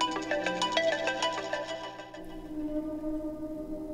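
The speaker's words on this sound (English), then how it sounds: "You have the same ringtone as me." A melodic phone ringtone plays a bright, repeating chime pattern, fairly loud and close, then cuts off partway and leaves a low lingering hum.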